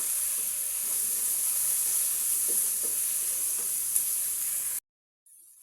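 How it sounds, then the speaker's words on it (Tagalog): Liver is pre-cooked in a pan for a chopsuey dish, giving a steady, close sizzle and hiss that continues evenly for several seconds before cutting off. "Pre-cook mo yung ating liver para hindi siya masyado malangis pa."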